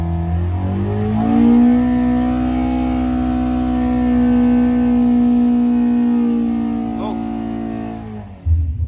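Hillman Imp 1200 engine on a dyno, revving in a long steady pull as the pitch climbs and holds high, loud and close, before cutting off at the end.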